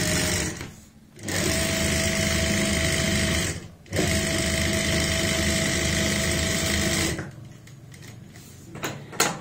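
A sewing machine runs in long steady bursts while stitching pintucks along the edge of a kurti neckline with lace, pausing briefly between runs; close and loud with no talking.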